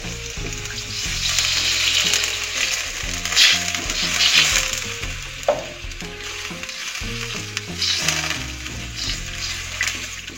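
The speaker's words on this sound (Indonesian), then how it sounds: "Kita tambahkan air." Water hits a hot pan of Indomie Goreng noodles cooking with squid, giving a loud, steady frying sizzle with bursts of spattering and stirring clatter that runs throughout, close up and without talk.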